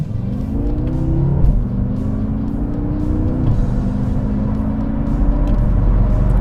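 A 2014 BMW M6 accelerates hard onto a freeway in manual mode, its engine revving up through several gears with clear drops at each shift, loud and close, with no talk.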